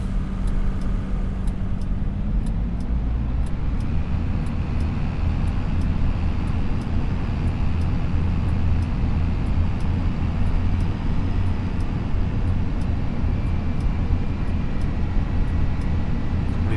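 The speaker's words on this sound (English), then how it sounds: "Traffic down this road is insane." Road traffic in the farming game Farming Simulator 25 forms a steady engine and tyre drone, with vehicles rumbling past continuously at moderate loudness and no voices over it.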